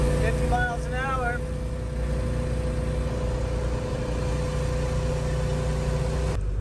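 Engine of an old Mercedes van running steadily at about 50 mph, a constant droning hum with a voice speaking briefly over it near the start.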